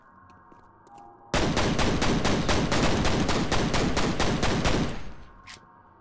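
Rapid automatic gunfire in the shooter game F.E.A.R., a loud sustained burst of evenly spaced shots lasting about four seconds, then cutting off to quiet.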